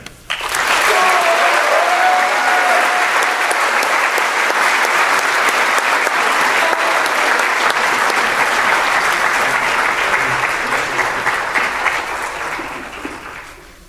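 Loud, sustained applause from an audience welcoming the 2014 Distinguished Alumni Award winner at a school alumni ceremony, swelling quickly and holding steady for over ten seconds before tapering off near the end.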